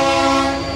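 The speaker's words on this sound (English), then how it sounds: "I don't know how that horn blasting on that train right there is going to sound." A passing train sounds its horn in a steady, loud, sustained blast with a faint rumble of the rail cars beneath, heard alone with no talking.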